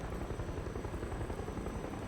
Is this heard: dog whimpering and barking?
no